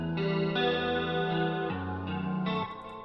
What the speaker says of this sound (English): at the beginning of the song, we have that echoey pad sound, so we can literally just take it from the pad that we created